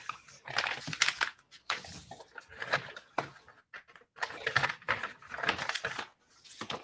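Paper being folded and handled during a classroom folding exercise, a series of loud, close crinkling and rustling bursts with short pauses between them.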